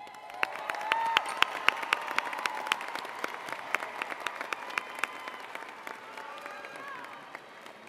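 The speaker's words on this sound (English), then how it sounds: "please stand and give a round of applause to your family, friends, and support systems for all their help through the years" A large graduation audience in a high school ceremony applauds for several seconds, with crisp individual claps and a few cheers over a broad wash of clapping that gradually tapers off.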